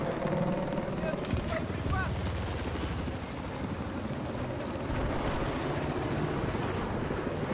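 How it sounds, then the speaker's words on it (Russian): A helicopter in Battlefield 4, its steady rotor thrum and engine drone running continuously at moderate level under a noisy battle mix, with a few sharp higher sounds layered on top. "Вон там, вертолет."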